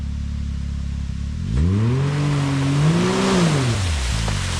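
A BRP Maverick X3 off-road vehicle idles with a low rumble, then its engine revs up, holds a rising and falling drone for a couple of seconds, and drops back, heard close and loud with no talking.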